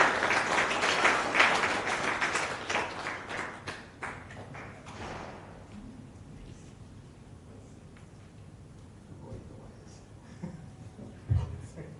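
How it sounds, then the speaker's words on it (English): A round of applause for Dr. Abbas at a Sri Ramakrishna birthday celebration, crowd clapping that is strong for the first few seconds and then dies away, followed by quiet room noise and a few faint knocks. "Can we have a round of applause, please,"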